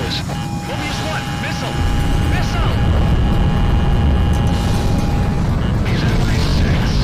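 Enemy jet in a flight combat game: a steady loud engine roar with a rising thrust swell partway through, while tonal cockpit warning beeps sound and a voice talks over it.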